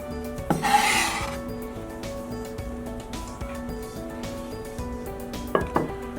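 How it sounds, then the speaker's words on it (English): A knife chops citrus peel into small confetti-like strips on a cutting board, with one rasping scrape near the start and a few sharp taps on the board later, with no talking. "And then we're going to cut them small, like confetti"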